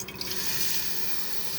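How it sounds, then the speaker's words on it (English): Water runs and trickles steadily in a backed-up sink, a soft continuous splashing with some dripping, close by but fairly quiet, with no voices. "the sink started backing up today"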